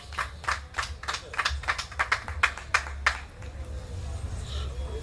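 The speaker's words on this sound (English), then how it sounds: "A round of applause." Applause from the audience at a St. Kitts and Nevis close-out event, scattered sharp claps and taps at a moderate distance that thin out and fade after about three seconds over a low background rumble.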